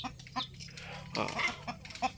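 Chickens cluck in short, soft, irregular bursts close by on a Thai farm, with a low background hum beneath the calls.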